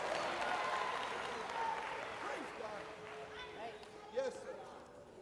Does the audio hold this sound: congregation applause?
yes